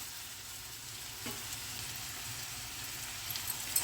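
Kohlrabi and garlic frying in oil make a soft, steady sizzle while being stirred, with a light scrape near the middle and a few louder bumps toward the end.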